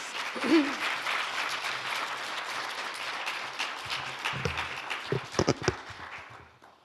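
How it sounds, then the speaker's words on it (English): Audience at a university honors induction ceremony gives a round of applause, moderately loud and fading, with a few scattered sharper claps and bumps toward the end. "another round of applause"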